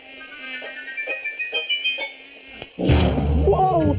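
A cartoon mosquito's whining buzz pulses close by in a swamp for a couple of seconds, then a sudden zap and a burst of louder cartoon sound effects take over.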